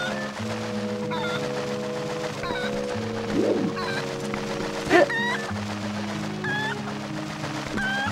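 A chicken clucks in the Zelda Twilight Princess video game, short clucks over a steady, layered game music backdrop, with game sound effects scattered through.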